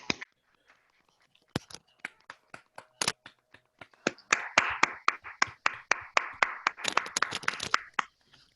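An audience at a Spanish-language book presentation claps, starting with scattered sharp individual claps that build into denser, fuller applause near the microphone before thinning out.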